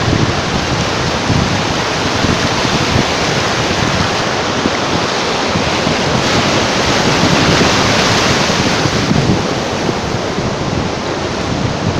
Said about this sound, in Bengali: এই ঢেউয়ের কলরব শব্দ শুনে